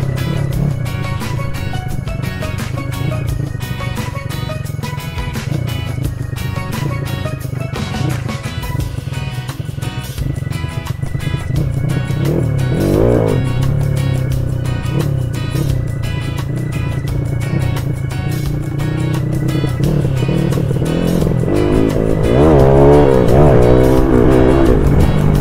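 A Honda XRM underbone motorcycle built up as a 253cc dirt bike revs hard through the gears during a wheelie session, loud and close, with a sustained buzzing engine note that rises and falls in pitch.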